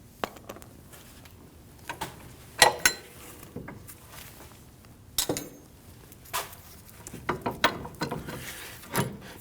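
An 18mm wrench and socket work the bolt and nut of a rear suspension knuckle on a 2005-2010 Chrysler 300, giving scattered metallic clicks and ratcheting clinks at close range.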